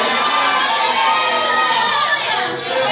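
A church congregation shouts and cheers together in a loud, sustained burst of many voices, a dense crowd roar during a worship service.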